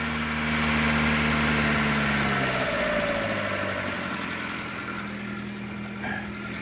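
A car engine, treated with Sea Foam engine treatment, idles steadily on its own nearby, a low rumbling drone with a slight dip in pitch partway through, no voices over it.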